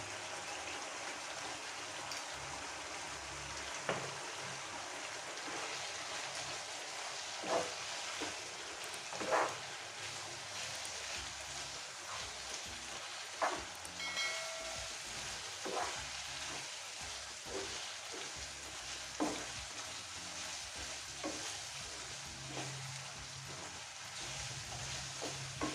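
Spiced Andhra-style chicken with chili powder and salt fries steadily in a pan with a dense, continuous sizzle, punctuated by occasional scraping clicks of stirring, close and without talk.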